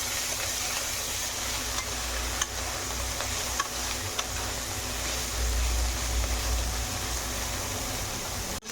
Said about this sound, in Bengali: মাছটাকে আমি এইভাবে আরে ভেজে নেব